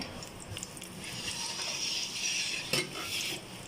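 Onions hit hot oil in a pot for a white bean lobia dish, producing a quiet, even sizzle with soft stirring scrapes and one sharper clink near the end.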